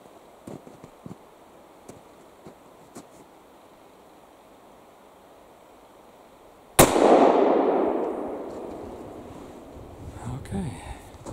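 A single loud gunshot from a Remington Rolling Block rifle fired with homemade ammunition outdoors in cold weather cracks sharply midway, its boom rolling away in a long echo, after quiet moments with light clicks and wind.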